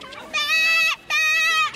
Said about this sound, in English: The main activities of the show are the arrival of the flock of sheep